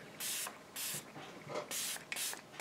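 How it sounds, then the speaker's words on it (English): A handheld sprayer puffs a light mist in five short, soft hissing bursts with brief pauses between them, close and fairly quiet, with no voices. "So we're gonna spray. It's such a light mist."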